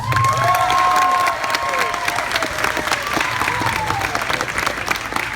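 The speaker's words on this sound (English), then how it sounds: "Everybody in the audience, give your volunteers a round of applause." Dense, loud applause with cheering and whoops from a crowd at a school grad-night hypnosis show, rewarding the volunteers on stage; it stays steady and full throughout.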